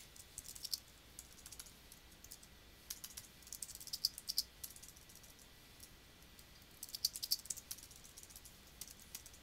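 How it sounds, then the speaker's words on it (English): A question is typed on a computer keyboard in short bursts of quiet clicking keystrokes, with pauses between them, set against a faint, near-silent room. "I'm going to type uh, my question in here"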